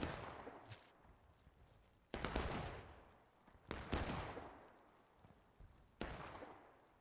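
Musket volleys ring out in a War of Rights battle, with three or four loud cracking bursts spaced a couple of seconds apart, each followed by a long rolling echo that trails away through the forest stream map.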